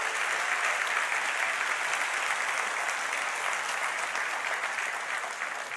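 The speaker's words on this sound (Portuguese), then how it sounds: "Você pode aplaudir ao Senhor por isso?" A church congregation applauds steadily throughout, a dense, even wash of clapping from many hands that holds at a constant level from start to finish with no voices standing out.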